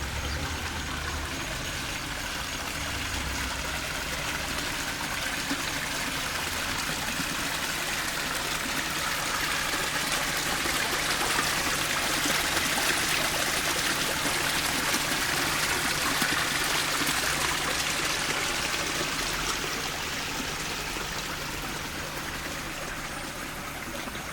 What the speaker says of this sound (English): We have the beautiful sound of the waterfall.